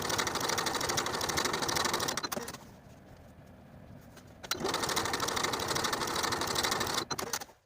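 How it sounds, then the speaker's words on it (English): A sewing machine top stitches across the upper edge of a back pocket on pull-on pants, running at a fast rhythmic clatter, pausing for a couple of seconds, then sewing again before stopping. "we'll work again from the right side of the fabric to top stitch the top of the pocket twice"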